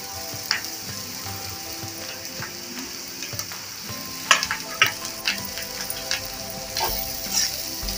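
Grated coconut and bitter gourd frying in a pan, a steady close sizzle with crackling pops and occasional stirring scrapes, no voices.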